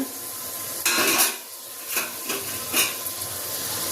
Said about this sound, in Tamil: தக்காளியை நல்லா வதங்கி வரட்டுங்க